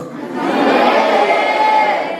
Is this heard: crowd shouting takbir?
yes